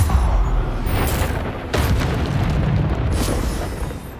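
A Bombarda spell explosion in the Hogwarts Legacy video game: loud, dense booming blasts that run continuously through the whole stretch, with a sharper burst partway through over a rumbling low end.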